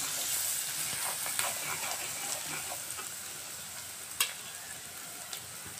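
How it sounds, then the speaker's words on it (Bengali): Spices and chili powder frying in a pan with mashed potato for an egg dish, a soft steady sizzle near the mic with a few sharp clinks of stirring, no voices. "মরিচের গুঁড়াও পরিমাণ মতো দিয়ে দেব। দিয়ে আমি ভালো করে ভেজে নেব।"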